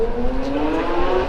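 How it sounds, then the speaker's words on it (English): Cars drive up a steep San Francisco hill, engines humming and climbing in pitch as they approach, moderately loud and close, with a steady traffic rumble beneath. "looking at all the cars that are just coming up."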